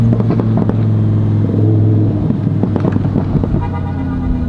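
Car engine revved to about 2,500 RPM and released, a loud rumbling drone broken by a cluster of uneven popping bursts from the exhaust, then settling back to a steady idle.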